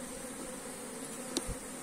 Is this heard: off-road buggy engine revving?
no